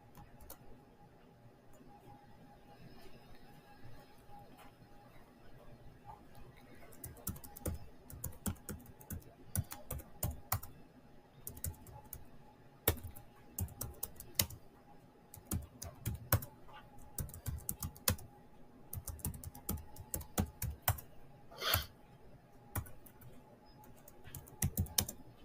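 Fast typing of Verilog full adder code on a computer keyboard, a steady run of close, crisp key clicks with brief pauses, no talking.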